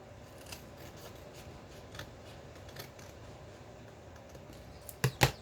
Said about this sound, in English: Now, I'll get the scissors and cut along here, and cut along here.